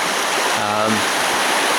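A cold mountain river flows steadily in a continuous broadband rush, close and fairly loud, with a brief voice-like tone partway through.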